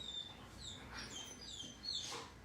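A dog named Jackson whimpers softly indoors, thin high whines repeated several times over faint room noise.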